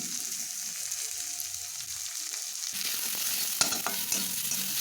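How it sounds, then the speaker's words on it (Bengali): Chopped onions and salt stirred in a frying pan for a pea and potato curry, a soft steady sizzle that grows a little louder partway through, with light scrapes of the spoon. "লবণটাকে দিয়ে পেঁয়াজটাকে খুব ভালো করে নেড়ে চেড়ে নিলাম।"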